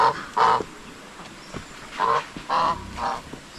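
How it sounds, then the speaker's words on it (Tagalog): Geese on a farm honk in short nasal bursts, one near the start and three more in a quick uneven run later, loud and close against a quiet outdoor background. "May mga gansa pa tayo doon."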